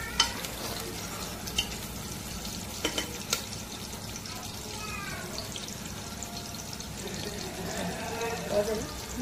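Cashews frying in a pan and being stirred, soft continuous sizzle with scraping stir strokes and a few sharp clinks, with a voice talking at times.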